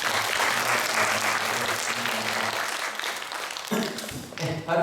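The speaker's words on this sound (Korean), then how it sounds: "박수 한번 쳐주세요" Church congregation at a Sunday worship service applauding a round of welcome for first-time visitors; steady, dense clapping from many hands fills the room for several seconds, then thins out as a voice begins speaking near the end.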